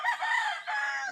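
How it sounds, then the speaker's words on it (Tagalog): A rooster crows nearby on a farm in two drawn-out strained bursts, with faint clucking of many chickens around it and no talking. "Ang dami ng manok."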